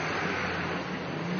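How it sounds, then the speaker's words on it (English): A noisy truck engine on a city street drones as a steady, muffled rumble, with no other sounds. "At this point, though, a noisy truck makes it hard to hear."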